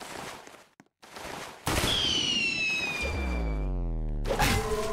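Gunfire in a multiplayer shooter video game: sharp bursts of shots with a whizzing, descending tonal sweep and a heavy low rumble building near the end, after a brief silence, with no talking.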